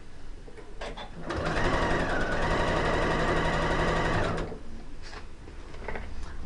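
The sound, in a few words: sewing machine stitching quilt block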